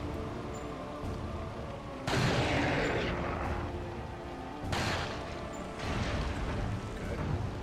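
Gunfire in the Resident Evil 4 video game: two loud broadband shot bursts with short decaying tails over a steady rumbling game ambience, with no talking.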